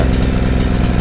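An Ozito 2000W petrol generator with its overload lights on runs rough up close, a loud engine drone with an uneven, slightly pulsing beat and no voices.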